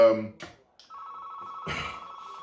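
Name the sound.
telephone ringing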